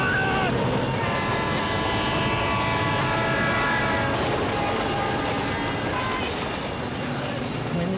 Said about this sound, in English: When the train went by, I didn't know whether they were alive or dead.